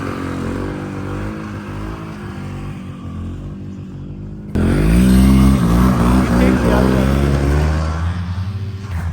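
A Tundra snowmobile engine runs in freezing cold, a rough low drone that jumps louder midway as the engine revs, with a person speaking over it.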